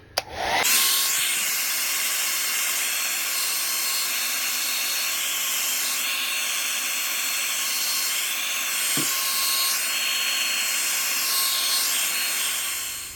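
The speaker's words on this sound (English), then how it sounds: "So I'm gonna hit it with the hairdryer" A hair dryer starts with a click and blows steadily with a loud, even whoosh and high whine, then cuts off at the end.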